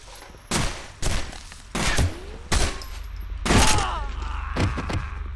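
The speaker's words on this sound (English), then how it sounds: "the sub gun works just about as good as the other ones" A submachine gun fires in the video game Condemned 2, loud and close, in about six separate short bursts spaced roughly a second apart, with mechanical clanks between them.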